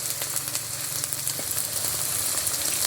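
Spice paste with salt, turmeric and chili powder frying in a pan for a thin fish and vegetable broth, a loud, dense, continuous sizzle with brief faint stirring scrapes.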